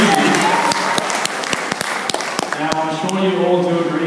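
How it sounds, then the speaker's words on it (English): An audience at a seal show gives a round of applause, hand claps rattling close and irregular while an announcer's voice talks over them throughout. "Give a big round of applause,"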